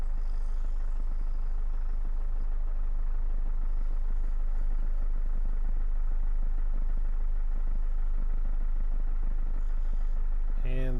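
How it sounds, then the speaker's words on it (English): A 1992 Land Rover Discovery Camel Trophy engine idling cold, giving a steady, even low rumble that holds throughout with no change in revs. "So that is a cold idle."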